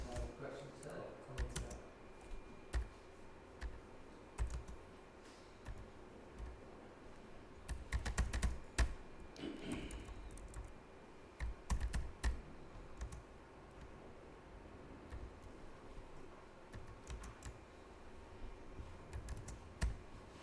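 Keys clatter on a computer keyboard in irregular bursts during a JavaScript training workshop, quiet and somewhat distant, with soft room noise and occasional louder clicks.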